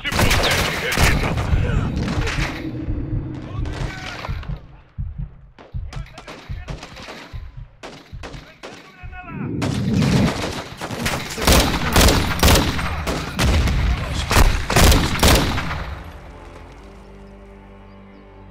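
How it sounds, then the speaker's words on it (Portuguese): Call of Duty Modern Warfare 2 firefight in the mountains: rapid bursts and volleys of automatic gunfire, loud and close, with quieter gaps between them and shouting voices mixed in. "Eles estão atirando!"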